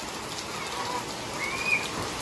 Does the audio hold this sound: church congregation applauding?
no